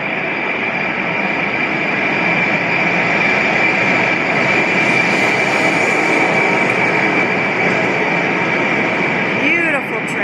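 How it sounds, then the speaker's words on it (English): The Belmond Royal Scotsman rolls into Edinburgh Waverley Station loudly and steadily, with rumbling wheels and a sustained metallic squeal, ending in high wheel screeches. "Here comes the Royal Scotsman pulling into Waverley Station"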